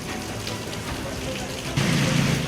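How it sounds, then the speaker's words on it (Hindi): Heavy monsoon rain pours steadily across a Maharashtra city, a dense, continuous hiss of falling water close by that swells louder toward the end. "बारिश के साथ तेज हवाएं चल रही हैं।"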